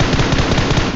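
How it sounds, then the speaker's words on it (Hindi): Rapid, continuous bursts of automatic gunfire in a video game, loud and close, with dense overlapping shots throughout. "हाँ गोली चल रही है,"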